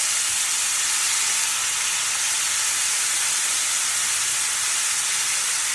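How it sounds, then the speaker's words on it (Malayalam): Prawns frying in hot coconut oil in a pan for a Kerala-style chemmeen roast, giving a steady, even hissing sizzle close by with no talk. "എണ്ണ ചൂടായതിനു ശേഷം ഈ ചെമ്മീൻ ഇങ്ങോട്ടിട്ട്"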